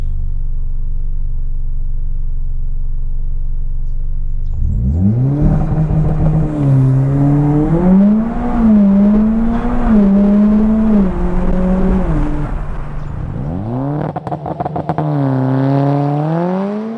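A manual Mitsubishi Evo X launches with spark-cut launch control on a 0-100 km/h run: a steady idle rises into a loud held rev, then the engine climbs through gears with rapid popping stutters near the end.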